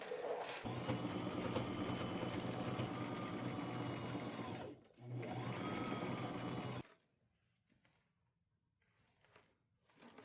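A sewing machine stitches the strap of a black lace fringe purse, running in a loud steady whir for several seconds, pausing briefly, then resuming before stopping into quiet handling.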